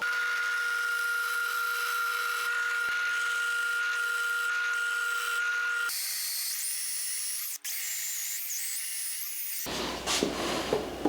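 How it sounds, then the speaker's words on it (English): A drill with a Forstner bit bores holes in wood, a steady motor whine that runs for several seconds, shifts tone, and ends in a rougher grinding bite into the workpiece. "So now let's get the rest of the holes drilled."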